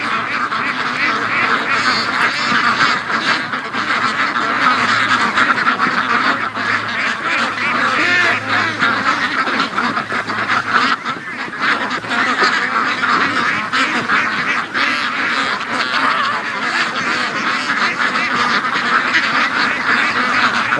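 A large free-range flock of ducks quacks nonstop in a feeding frenzy over a pile of feed in a yard, a dense, loud chorus of overlapping quacks and honks close by for the whole stretch.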